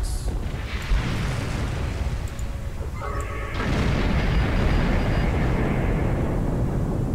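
Mine explosions in the Star Trek Online game, a sustained roaring rumble of blasts that swells louder partway through, with no talk.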